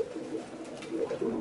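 Soft, close cooing from homing pigeons in a loft, low repeated coos that rise a little toward the end with no talk.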